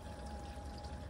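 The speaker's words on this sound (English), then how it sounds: "while you're waiting for the impossibly big water tank to fill up" Water pours steadily into a narrowboat's large water tank on a calm night, a faint, even rushing wash with no voices.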